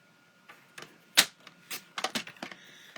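Paper being trimmed for a layered stamped greeting card, a series of sharp clicks and brief snips close by, one louder snap among lighter ticking cuts, with no talking.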